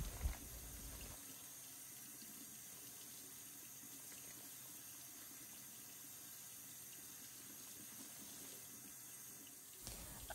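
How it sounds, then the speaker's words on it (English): Running tap water streams steadily into a sink while dried chilies are rinsed for a Mexican pork rib sauce, a constant close hiss with no talk over it. "I'm giving my chilies a rinse to make sure there's no dust or dirt on them."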